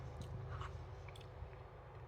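Crunchy nachos with salsa chewed close to the mic, a quiet, steady crackling and munching with no talking over it.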